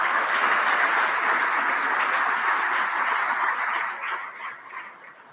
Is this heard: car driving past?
no